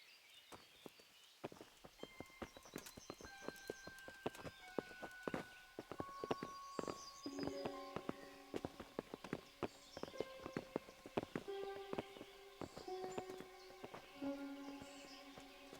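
Horse hooves clip-clop at a steady walking rhythm in the medieval game Kingdom Come: Deliverance, moderately close, mixed with insect buzzing and faint ambient tones.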